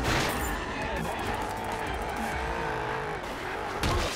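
A car in Carmageddon Max Damage on Xbox One skids and spins out with continuous tire squeal and engine roar, dense and loud game audio throughout.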